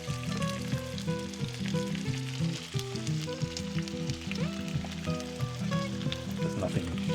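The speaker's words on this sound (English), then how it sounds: "There's nothing better than the sound of sizzling burgers." Steady, close sizzling of burgers frying in a pan at a campsite, a continuous crackle with occasional scraping, no voices.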